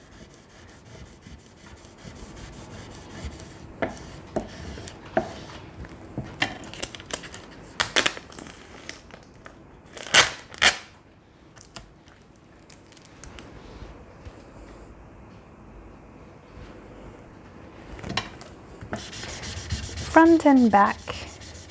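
Burnishing a wooden Valentine's Day heart sign by hand, a soft intermittent rubbing and scraping with a few sharper bursts near the start and end, close and moderately quiet, alone.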